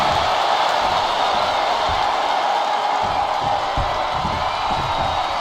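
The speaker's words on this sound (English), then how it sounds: "you hear this capacity crowd following you on that journey" A capacity crowd at a live WWE wrestling event roars and cheers in a large arena, a loud continuous wash of voices with swelling whoops throughout.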